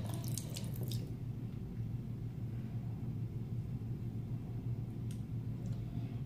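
Water runs steadily from a tap into a sink beneath a low, constant rumble, with a few light clinks near the start and again near the end.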